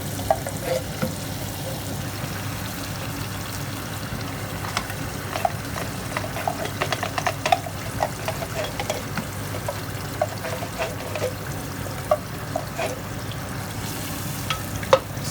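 Baked beans with spicy pepper simmering and frying in a pan for Ghanaian red red: a steady close sizzle and bubbling, dotted with frequent small pops and occasional stirring clicks, no speech.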